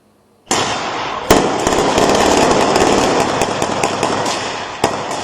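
Gunfire in the occupied West Bank erupts suddenly into a loud, sustained rattling barrage, with a few sharper cracks standing out, and no voices over it.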